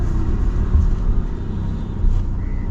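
A new car being driven on the road, heard from inside as a steady low engine and road rumble with faint traffic noise, continuous and fairly loud.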